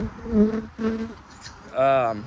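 Buzzing of honey bees at a hive during an early spring inspection, harmonic hums rising in bursts close to the microphone, with a louder drone near the end.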